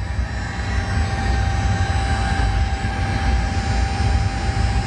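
Steady, loud engine roar with tonal whine from the number 2 engine of a Boeing 737 spooling up during start, heard from inside the cockpit with no talk.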